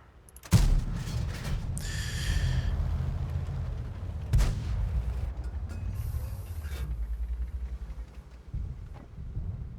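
World of Tanks tank cannon fire: a loud, sharp blast with a rumbling tail, then a second heavy shot about four seconds later, over a steady engine drone and no talk.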